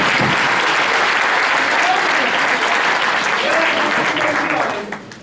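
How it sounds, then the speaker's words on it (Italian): Audience applause for young performers at a community event, sustained loud clapping from a crowd for about five seconds before fading at the end. "Un applauso ai ragazzi!"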